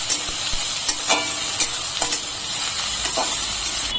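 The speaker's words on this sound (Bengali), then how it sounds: "এখন আমি পেঁয়াজ দিয়ে দিচ্ছি। পেঁয়াজ দিয়ে একটু ভালো করে নেড়ে নিতে হবে।" Onions fry in a wok after mustard seeds, with a sizzling hiss broken by a series of sharp scraping strokes from a stirring spatula at an irregular pace, close and clear with no talk.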